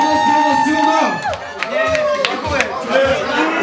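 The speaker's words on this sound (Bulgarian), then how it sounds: "Аплодисменти." An audience at a New Year's party on a farm bursts into clapping and cheering, with whoops and shouts layered over close, loud talk and bursts of crowd noise.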